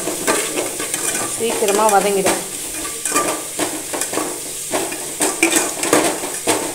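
Onions and eggplant sauté in a pan for a fishermen-style prawn curry, giving a loud, steady close-up sizzle. A spoon stirs and scrapes against the pan throughout, and a voice briefly says a single word.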